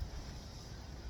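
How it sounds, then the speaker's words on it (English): Wind gusts steadily outdoors beside a campfire, a close, rumbling buffet on the microphone that holds constant for a moment with no one talking. "Be nice if this wind quit blowing for a minute."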